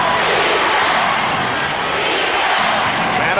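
Roaring basketball arena crowd at a 1991 NBA Eastern Conference Finals playoff game, Chicago Bulls versus Detroit Pistons, chanting defense; a loud, dense, steady wall of voices fills the whole stretch.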